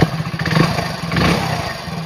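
Motorcycle engine running at a repair shop right after engine work, with the cover removed; a close, rough idle with mechanical clatter and a slight rise in revs.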